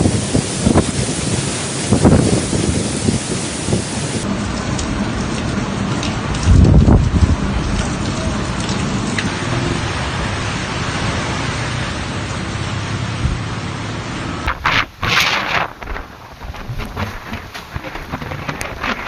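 Typhoon wind roars and buffets the microphone with driving rain in the eastern Philippines, a loud, dense, continuous rush that surges and shifts without letup.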